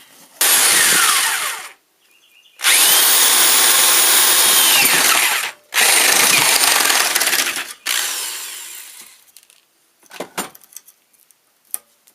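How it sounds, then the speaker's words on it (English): A power drill whines loudly in three bursts, stopping and starting, biting into metal on a 1991 BMW 318i, followed by a few clinks and rattles of tools. "I guess we'll try to drill another hole right here"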